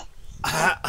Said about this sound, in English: Yes, Connor, I know you have to cough, but mute your mic if you have to cough.